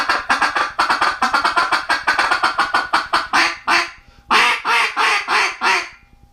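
A duck call blown raspy and low in pitch gives a loud, close run of rapid quacks, a steady fast series that breaks briefly and then resumes with several harsher, fuller notes.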